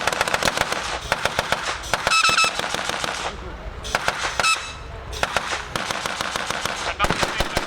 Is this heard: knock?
no